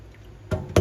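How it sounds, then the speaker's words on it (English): Leftover water drains from the pipe of a Comfee countertop dishwasher in two quick, close splashes after a brief quiet stretch. "Just take all the excess water out from the pipe"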